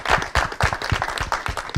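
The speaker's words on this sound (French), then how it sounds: "est-ce qu'on peut l'applaudir?" A small audience claps briefly after a call-in segment on a French talk show, with close, fairly quick and uneven claps for under two seconds.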